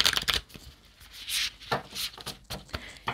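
A Mystical Shaman Oracle card deck being shuffled by hand, several quick riffling and sliding bursts of cards close up, with short pauses between them.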